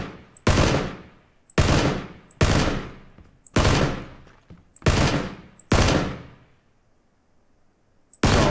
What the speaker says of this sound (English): I'm taking shots from somewhere